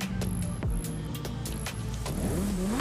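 Lamborghini Huracán STO revving in the Forza Horizon 5 racing game, a loud engine note with rising and falling pitch sweeps that climbs steadily near the end, heard alone with no talk.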